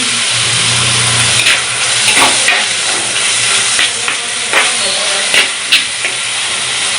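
Crab curry masala sautéing in a pan at an outdoor village cooking spot in Jaffna, a steady steam-like hiss with scattered crackles and clinks throughout, a low hum and rumble in the background.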